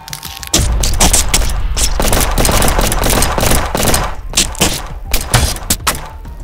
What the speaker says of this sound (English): We're open fire.